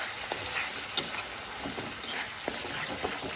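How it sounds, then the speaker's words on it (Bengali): A spice paste of turmeric and chili fries quietly in a pan over a medium gas flame, a soft sizzling hiss with occasional light scraping taps as it is stirred. "এবার গ্যাসের ফ্লেমটা মিডিয়ামে রেখে মশলাটাকে ভালোভাবে কষাবো।"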